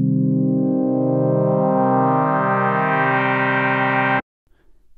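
A sustained Pigments synthesizer tone using frequency modulation, with a rich, buzzy harmonic stack and a slow wobbling modulation, building in brightness before cutting off abruptly, followed by faint noise.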